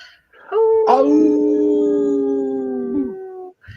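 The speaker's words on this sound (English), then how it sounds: "Thanks for not leaving me to howl on my own today, Robert." A wolf gives one long, loud, sustained howl that rises sharply at the start, holds a steady pitch for over two seconds, then drops away.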